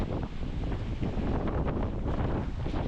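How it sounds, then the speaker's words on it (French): Strong wind buffets the microphone in a steady, loud roar while surf churns underneath during a sea swim beyond the harbour breakwaters, with no speech. "Il y a quand même pas mal de vent et beaucoup de vagues."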